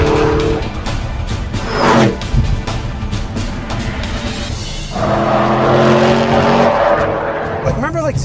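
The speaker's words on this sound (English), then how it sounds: "And look, that's full throttle, second gear." Chevrolet SS sedan at full throttle in second gear, a loud engine roar with a rising pitch and brief tire squeal, heard under someone talking.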